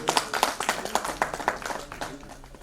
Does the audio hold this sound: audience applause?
yes